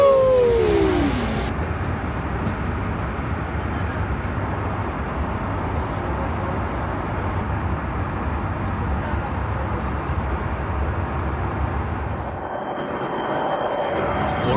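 Inside an airliner cabin just before landing, a dense, steady engine roar fills the air at a constant level, with a brief rising tone at the start and the drone easing near the end.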